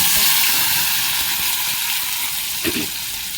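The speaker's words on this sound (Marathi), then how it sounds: "मसाला चांगला भाजून घेते तेलामध्ये" Loud continuous sizzling of a spice paste frying in oil, close up, with an occasional stir scraping the pan.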